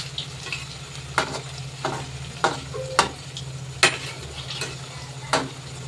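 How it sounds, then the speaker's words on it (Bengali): A potato snack mixture in a frying pan is gently stirred with a spoon, producing about seven distinct scraping strokes over a soft, steady sizzle, close up and without speech. "এবার এরকম হালকা হাতে আমি নেড়ে চেড়ে নেবো"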